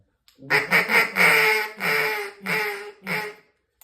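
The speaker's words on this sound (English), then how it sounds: "Now I'm gonna hail call at them" A duck call blown as a hail call gives a series of about seven loud, close, nasal quacks. They come in a quick run, the longer ones near the middle, and taper off at the end with no talk.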